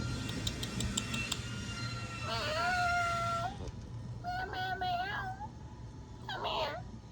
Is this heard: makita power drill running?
no